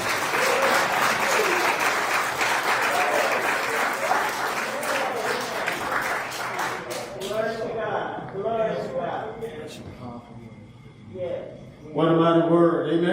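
A church congregation claps hands in praise, a loud, dense round that fills the first half and then gives way to someone speaking with a few voices answering.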